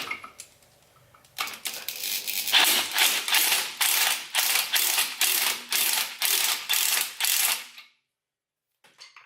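A ratchet turns the 24mm bolt of a hub puller on a Ford Fiesta Mk6 drum brake, a close, loud train of rhythmic clicking strokes, about a dozen evenly spaced pulls, then silence.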